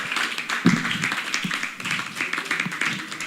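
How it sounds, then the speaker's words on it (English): A congregation stands and claps for a Reverend at a church young people's week service, a dense, steady patter of many hands at moderate distance with a few sharper claps standing out. "A big round of applause for Reverend"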